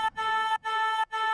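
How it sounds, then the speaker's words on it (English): A dry, unprocessed vocal sample sounds in three sustained, steady tones separated by brief silences, clean and fairly bright, with no effects. "So without any effects, it would sound like this."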